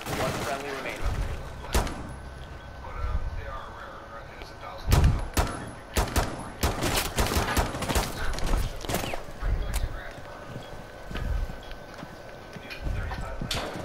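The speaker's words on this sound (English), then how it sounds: "Dude, shooting me with pistols." Pistol gunfire in Rainbow Six Siege, a run of sharp close shots spread over the span amid thumps and footsteps, with a voice talking throughout.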